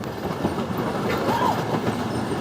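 A mine train roller coaster at Six Flags Magic Mountain rumbles along its track in a steady rolling clatter, with a brief squeal partway through, moderately near and without talk.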